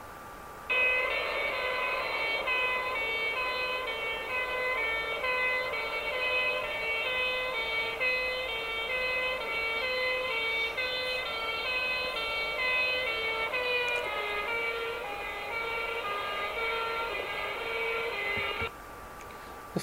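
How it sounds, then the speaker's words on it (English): A fire engine siren wails loudly and steadily in a repeating tonal pattern for nearly twenty seconds, then cuts off abruptly. "A classic example of this is a fire engine travelling along a road."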